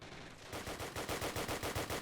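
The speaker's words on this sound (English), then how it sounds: "STG-44 fire, laying it down." Rapid automatic STG-44 rifle fire from the Men of War video game, a fast rhythmic stream of about a dozen sharp cracks in one continuous burst, loud and close.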